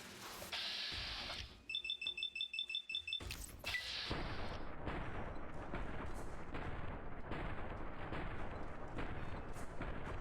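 A single-shot gun firing in a video game: a heavy boom followed by a rapid series of short clicks, then another loud blast and a sustained rumbling, crackling roar that fills the rest.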